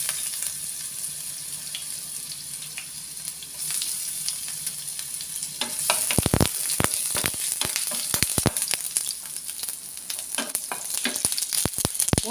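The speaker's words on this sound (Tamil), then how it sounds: "சீரகம் போட்டு நல்லா பொரியட்டும்." Cumin seeds fry in hot oil for stuffed paratha filling. A soft hiss builds into dense, sharp crackling and popping from about halfway on, close and continuous.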